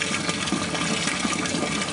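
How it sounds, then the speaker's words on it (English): Water flows steadily from a homemade aquaponics bug fountain and returns to the fish tank, giving a continuous close rushing splash with no pauses. "fountain with water returning back to the fish tank"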